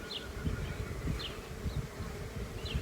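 Honeybees buzz around beehives outdoors with a steady, dense drone and occasional brief higher whines as single bees pass near. There is no speech.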